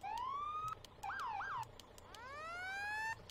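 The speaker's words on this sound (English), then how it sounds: "we'll take a look at the sirens." A fire truck siren from the video game Farming Simulator 17 cycles through modes: a rising wail, quick yelping warbles, then another long rising wail, loud and alone with no talk.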